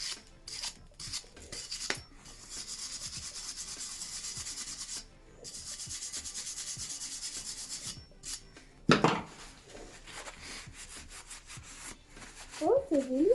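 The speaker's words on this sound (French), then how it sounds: "ça l'enlève directement quand on la frotte après avec une brosse métallique" A wire brush scrubs rust off a metal fuel tank in close, rhythmic rasping strokes broken by short pauses, with a few clanks and scrapes toward the end.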